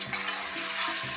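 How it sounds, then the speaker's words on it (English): Food fries in a pan for soup-making, giving a brief, steady, close sizzle with crackling texture. "so it's all frying now and it smells amazing"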